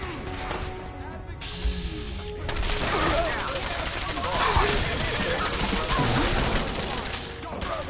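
Rapid bursts of automatic gunfire and explosions from a Fallout 4 firefight rattle continuously and loudly, with a brief lull early on, while voices shout over the battle.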